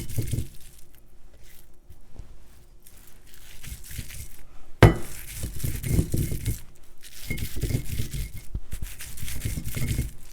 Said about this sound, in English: So the amicale is ready for grinding now.